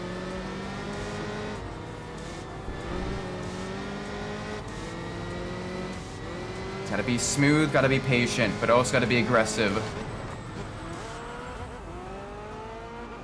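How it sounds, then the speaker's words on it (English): A high-revving Mercedes V8 race car in the racing game Enthusia Professional Racing roars ahead with rising and falling engine pitch, mostly under steady commentary, swelling louder with a burst of harsh revving midway. "You can hear the Mercedes in front of us, the V8."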